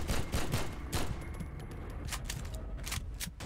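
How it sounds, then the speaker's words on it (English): Gunfire in Garry's Mod rattles in rapid, repeated bursts of sharp shots, dense at first and then more scattered, close and loud with no talking. "I'm just shooting where you're shooting."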